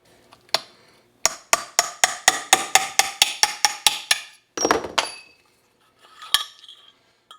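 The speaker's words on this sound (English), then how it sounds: "See if I can either press this out or punch it out with the brass drift" A brass drift is struck with a hammer to punch a part out of a 1974 Porsche 911 engine component held in a vise: about a dozen sharp metallic hits in quick, even rhythm, then a few scattered clinks, loud and close.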